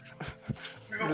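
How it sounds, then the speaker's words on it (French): A dog pants and whimpers at close range in a short, quiet burst of breathy huffs and a soft whine, with a person's voice faintly present. "Le chien mange la multiprise."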